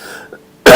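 A single short, harsh cough from someone with allergies bursts out loud and close after a stretch of near silence with faint background hum.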